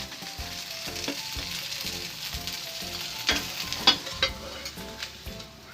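A cheese potato dosa sizzles and fries steadily on a hot pan, with a bright, continuous crackle and a few sharper pops near the middle, and no talking.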